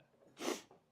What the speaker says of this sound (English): Next time I'll sneeze right into my microphone.